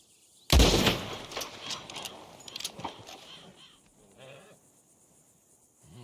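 Sheep bleating on a ranch in Red Dead Redemption 2, a sharp gunshot-like burst first, then several wavering bleats over scattered game ambience.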